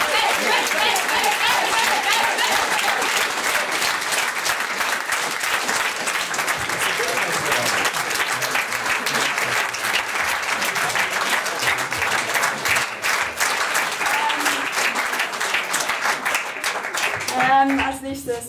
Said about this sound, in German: Ganz großen Applaus für unsere Technik.